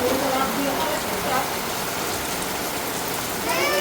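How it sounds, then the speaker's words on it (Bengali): Rain falling outdoors in a Bangladeshi village, a steady broadband hiss of drops on surfaces that stays even and fairly loud throughout, with faint voices in the background. "দেখুন বৃষ্টি শুরু হয়েছে।"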